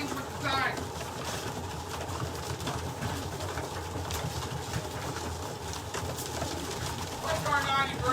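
Pigeons cooing in a hallway loft during feeding, soft repeated coos over a busy background of fluttering and shuffling, with someone talking through much of it.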